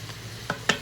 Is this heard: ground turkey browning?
yes